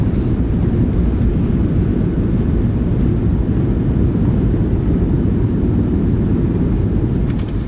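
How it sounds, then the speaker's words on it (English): Thrust reversers roaring on a PMDG 737-700 during landing rollout in MSFS2024, a loud, steady, broadband low rumble that continues unbroken and eases slightly only at the very end. "Nose down gently. Reversers are out. Decelerating."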